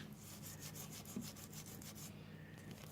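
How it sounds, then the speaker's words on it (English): Hand cleaner is rubbed by hand into the metal tracks of a 1914 Singer 128 sewing machine, a quiet close rhythmic scrubbing with rapid repeated strokes, faint and steady, with no voices. "I've got some goop hand cleaner. I'm going to rub it in these tracks."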